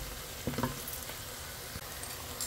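Onions frying in a pan until browned, giving a steady close sizzle with a few brief stirring scrapes and no talk.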